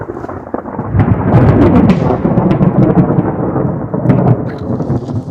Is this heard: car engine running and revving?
no